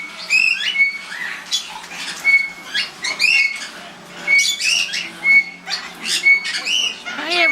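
Pet birds squawk and whistle in rapid, repeated bursts nearby, loud and busy, with occasional voices in the background.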